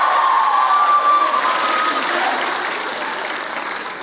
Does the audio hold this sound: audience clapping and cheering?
yes